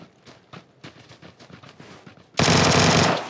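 Sustained burst of automatic gunfire in a first-person shooter game, loud and dense, following a stretch of lighter clicks and thuds.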